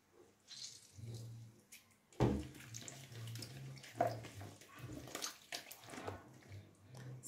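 Tap water runs in a sink over raw shrimp being rinsed of lime juice and vinegar, a soft close splashing that swells and dips with handling, plus a sharp knock partway through.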